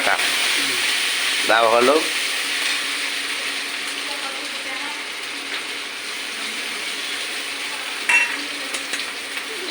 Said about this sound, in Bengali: একটা ভাজা হচ্ছে, এটাকে ভাজা ভাজা করে লঙ্কা জিরা বাটা, আদা লঙ্কা জিরা বাটা